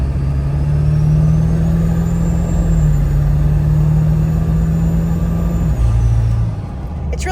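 A lifted 1999 Ford F250 with a 7.3 Powerstroke diesel drives along, its steady engine drone holding a constant hum that dips briefly near the end, heard from inside the cab.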